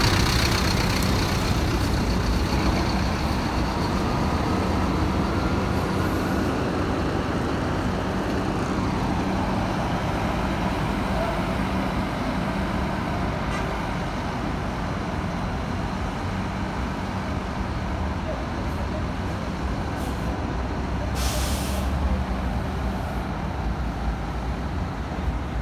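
A bus moving at the Vitória da Conquista bus station, a steady low engine rumble with general station traffic noise and a brief hiss near the end, heard continuously without talk.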